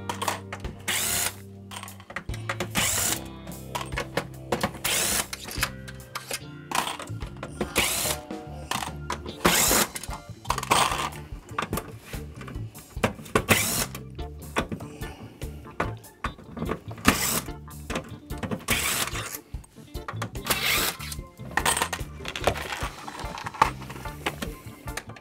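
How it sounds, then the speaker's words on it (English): Small screws being backed out of an Xbox 360 Blade-dashboard console during a red ring of death repair, giving repeated short bursts of a close powered driver whirring with clicks and handling noise between them. "So I'm just going to go down and remove all of the silver screws."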